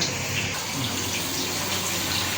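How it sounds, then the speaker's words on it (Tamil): Water pouring steadily into the open tank of a semi-automatic tea and coffee vending machine, a continuous close splashing rush with no pauses and no talk. "நீங்கள் மூடி ஓப்பன் பண்ணிவிட்டு இதுக்குள்ளார தண்ணி விடணும்"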